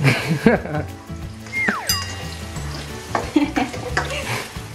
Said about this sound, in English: we just need to put some oil first and then onions with the sili and just ikut-ikut lang